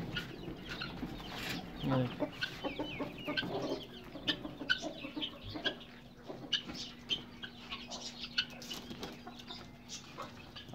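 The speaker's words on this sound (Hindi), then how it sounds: "सबसे पहले इन मुर्गियों को खोल देते हैं" Hens cluck and squawk softly at a distance in irregular bursts, with scratching, shuffling noises and a low steady hum in the background.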